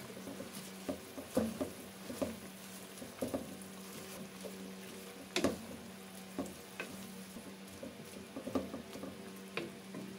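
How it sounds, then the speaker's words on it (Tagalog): Kangkong leaves are stir-fried with tofu and pork in oyster sauce, with a steady soft sizzle and intermittent scraping and clacking of a spatula tossing the pan, close and fairly quiet. "Pagkaraan po ng 2 minuto ay pwede na po natin ilagay ang dahon ng kangkong. Haluin lang po natin konti."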